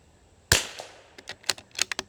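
A suppressed .22 rifle fires outdoors: one sharp, close crack, then a quick uneven string of fainter, shorter pops.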